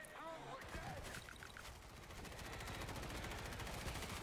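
Rapid automatic turret fire in World War Z horde mode rattles continuously in dense, even bursts, loud and close, after a brief opening of other game effects.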